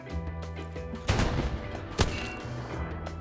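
Gunfire in the World War II shooter Hell Let Loose: a couple of sharp reports ring out over a steady rumble of distant battle and engine noise, fairly loud throughout.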